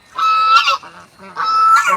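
A domestic duck honks loudly and close, two harsh, drawn-out calls separated by a brief pause, with no talk heard.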